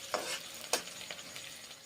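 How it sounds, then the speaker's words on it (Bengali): Onions frying in hot oil for a mushroom curry, giving a soft steady sizzle with a few sharp crackles and stirring clatters, close up and with no talking. "এখন তেল গরম হয়ে গেছে, তাই পেঁয়াজগুলো ছেড়ে দিয়েছি। পেঁয়াজগুলো ভেজে নিচ্ছি।"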